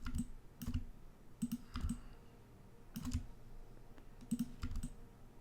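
A computer keyboard and mouse click in small bursts as the shift key is held while selecting edges in Maya, with sharp, close, quick clicks spaced across a quiet background.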